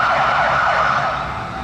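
A loud wailing police escort siren in Miami sweeping up and down over traffic noise, close by and tapering off slightly toward the end.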